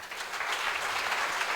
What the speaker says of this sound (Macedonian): Ве замолувам за огромен аплауз